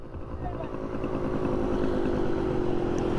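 A powerful motorcycle engine runs close by, a continuous rumbling drone that grows slightly louder as it revs, with voices talking over it.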